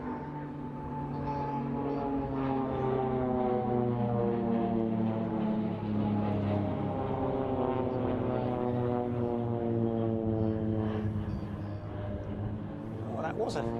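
Frecce Tricolori jets making an opposing two-versus-two pass at an air show, a loud whine that sweeps down in pitch as they cross, with a commentator talking over it.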